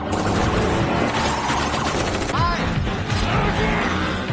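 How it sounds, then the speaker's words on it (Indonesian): Street gunfight from the action-comedy film The Hitman's Bodyguard (2017), a dense, loud barrage of gunfire with booms and a continuous chaotic battle din, with voices faintly mixed into the mayhem. "Dan disinilah terjadi baku tembak di jalanan yang tak terelakkan."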